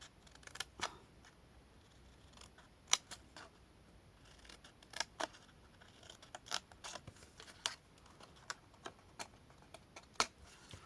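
Scissors snip through paper while a small 6x6 cm Tic Tac ribbon storage box is made, a series of sharp, close, irregular cuts over a quiet background.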